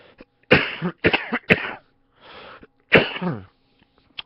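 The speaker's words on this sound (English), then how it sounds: "I have a cough from surgery that kind of gashed up my throat" A person coughing after throat irritation from surgery, several times in short bursts, close and loud, with brief pauses and a quieter raspy breath between.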